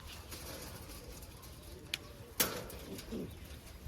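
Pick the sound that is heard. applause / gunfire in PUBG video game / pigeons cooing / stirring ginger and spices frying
pigeons cooing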